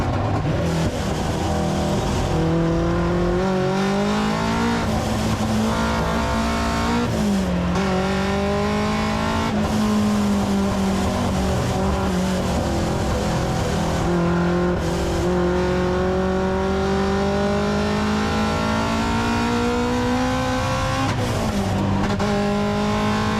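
A 520 WHP Subaru BRZ hillclimb race car on a racetrack holds high revs, its engine note rising and dipping through repeated shifts and lifts, loud and close, with a brief tire chirp near the start.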